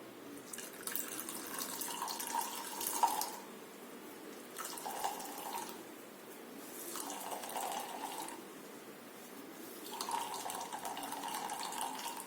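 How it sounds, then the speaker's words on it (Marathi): Grated coconut soaked in water is squeezed by hand to press out thick coconut milk for sol kadhi, giving repeated wet splashing and trickling bursts that rise and fade in a slow rhythm, fairly quiet and close, with no talking. "आणि यामधले व्यवस्थित असे पिळून दूध काढणार आहे"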